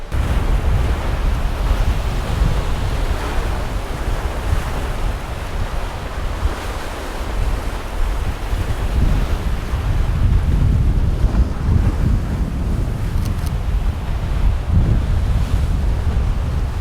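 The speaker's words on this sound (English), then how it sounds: "those choppy waves at the end were making it quite interesting" Choppy ocean waves washing around a pier, a continuous loud roar of surf with heavy wind buffeting the microphone and swelling surges throughout, no voices.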